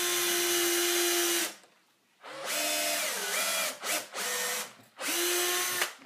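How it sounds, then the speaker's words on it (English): A power drill pre-drilling a hole all the way through a clamped piece of wood for a candle holder, whining loudly in several close bursts with short pauses between runs. "drill a hole all the way through."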